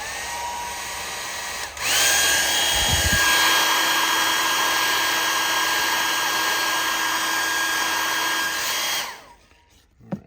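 A heat gun warms a vinyl decal on a Les Paul guitar headstock, switching on with a loud steady whir and hiss that runs for about seven seconds before winding down and clicking off.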